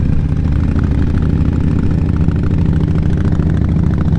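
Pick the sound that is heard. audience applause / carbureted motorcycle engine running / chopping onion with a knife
carbureted motorcycle engine running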